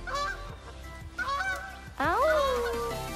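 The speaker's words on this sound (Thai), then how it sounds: "มีห่านบินหลังคาอีกแล้ว" Geese honking as they fly low over a house roof on a snowy morning, a series of loud, nasal calls in bursts that swell into a dense overlapping chorus near the end.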